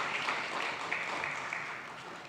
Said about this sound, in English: a round of applause for the team that worked on that